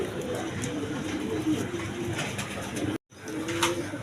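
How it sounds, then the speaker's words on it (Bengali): Domestic pigeons cooing, soft low repeated coos close by, briefly cut by a moment of silence before resuming. "একদম ছট পড়া কবুতর দেখেন"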